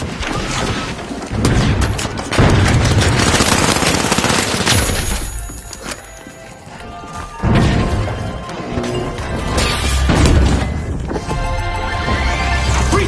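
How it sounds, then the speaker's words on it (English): Pyro and frag grenade blasts in a competitive video game match: repeated loud crashing bursts and rapid gunfire-like crackle in dense waves, with a quieter lull midway before the bangs resume. "Pyro grenade out! Frag grenade out!"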